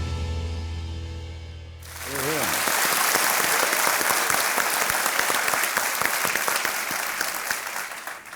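Studio audience on the KBC quiz show breaks into sustained, full applause after music cuts off, the clapping dense and even as it carries on to the end.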